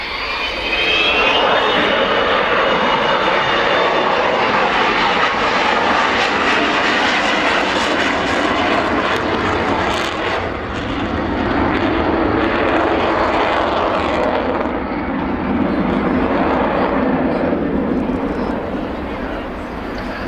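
An Avro Vulcan bomber makes a gear-down flypast at an airshow, its jet roar loud and sustained, swelling and shifting in tone as it passes, with a voice talking over the noise.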